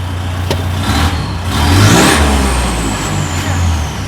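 A Mitsubishi Triton 2.4 pickup's diesel engine, stock, hums close by, then revs up and settles back, with a rising whine during the acceleration.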